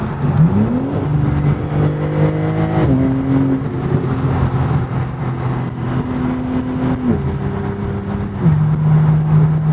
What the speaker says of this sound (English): Watch how quick it downshifts.